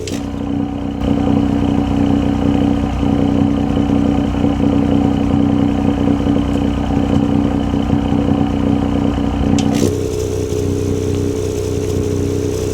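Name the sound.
car exhaust note with valve open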